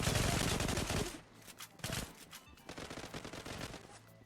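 Bursts of automatic gunfire in the online shooter Zula, loud and close, a dense burst at the start followed by scattered shorter volleys and single shots.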